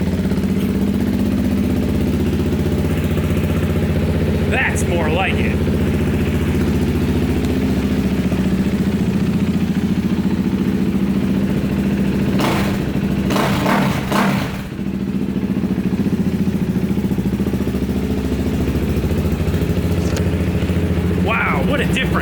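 A KTM RC390 with a new aftermarket exhaust idles with a deep, steady, raspy thrum close by, blipped into brief louder revs a few times; someone talks over it.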